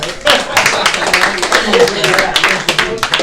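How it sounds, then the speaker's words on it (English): An audience claps in a round of applause, a dense, close patter of hands that continues steadily for a few seconds with voices mixed in. "Give him a round of applause."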